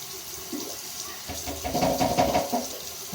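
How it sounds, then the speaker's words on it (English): Tap water runs into a potty bowl being rinsed, a soft continuous splashing that swells and becomes busier midway, fairly close and with no talking. "Run it under water."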